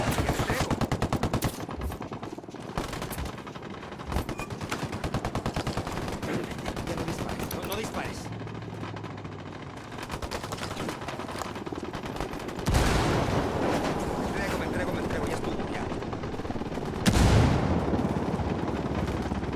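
Dense automatic and machine-gun fire in Tom Clancy's Ghost Recon Wildlands, sustained bursts rattling near and loud for the whole stretch with heavier blasts, with a voice speaking briefly.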